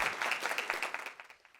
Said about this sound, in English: Let us all welcome them to the stage with a round of applause.